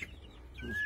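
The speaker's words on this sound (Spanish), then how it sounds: "Aquí tiene pavos." Young turkey poults in a farmyard give soft, close clucking and a thin rising peep over a faint low background.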